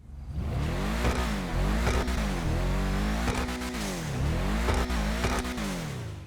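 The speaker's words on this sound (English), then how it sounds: "I want to get a quick exhaust test." Ubermacht Sentinel GTS in the game GTA Online, its exhaust revved repeatedly with the engine pitch rising and falling in rhythmic surges, loud and continuous with crackles between revs.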